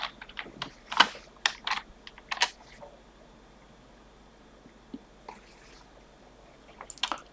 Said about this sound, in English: So I just go type in Vim